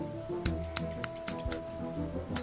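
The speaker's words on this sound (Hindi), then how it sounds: "एलन ने जेल से बाहर आते ही आलोक के टेबल पर पड़ी एक कैंची उठाई और उससे अपने बाल काट दिए।" Several crisp snips of scissors cutting hair, evenly spaced sharp clicks close by over a faint background hum, with no voices.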